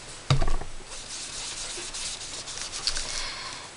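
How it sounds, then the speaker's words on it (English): A sponge lightly dabbed with ink over vanilla cardstock, giving soft close rubbing and patting strokes with one firmer dab near the start, quiet and alone. "I'm just going to lightly sponge over my Fairy Vanilla cardstock"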